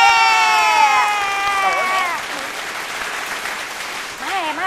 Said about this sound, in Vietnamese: Một tràng pháo tay cho Trần Nghĩa Lộ Cơ và Hồng Như Ngọc.